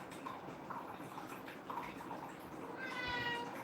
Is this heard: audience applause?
no